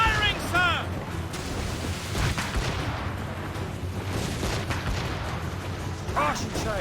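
Ship cannons fire repeated volleys in an Assassin's Creed Rogue naval battle, with heavy booms rolling through a constant din of combat and brief shouting voices.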